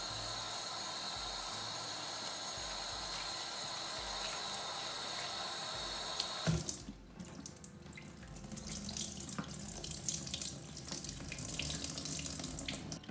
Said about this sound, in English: we rinse the beans